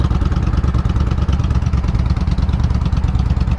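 A customized Suzuki Intruder 125 or a larger motorcycle runs at a steady idle close by, giving a continuous low, throbbing rumble with a slight clatter and no talking.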